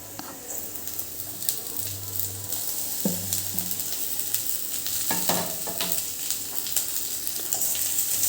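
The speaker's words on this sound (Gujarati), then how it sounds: "ડુંગળી અને ગાજર થોડું સોફ્ટ થાય ત્યાં સુધી આપણે એને શેકવાનું" Onion and carrot sauté in a hot pan with a steady close sizzle, broken by scraping stirs and clatters as more vegetables are tossed in and stirred.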